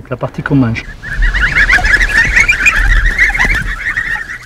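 Geese honk repeatedly in a loud, continuous chorus on a walnut and foie gras farm in Périgord, following a brief burst of nearby voices at the start.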